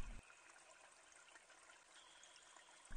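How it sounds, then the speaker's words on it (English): A steady stream of water flows and trickles beneath a floor in the horror video game Monster Basement, a faint, even hiss with no talk, ending in a short thump. "though I hear a stream of water flowing from beneath."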